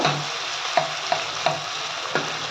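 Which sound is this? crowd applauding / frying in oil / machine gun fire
frying in oil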